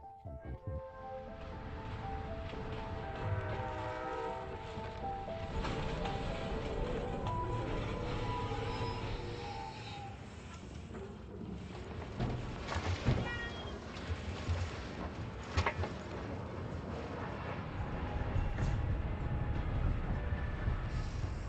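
A train rumbles steadily along the tracks at moderate loudness, with rattling carriages and occasional clanks over a continuous low roar.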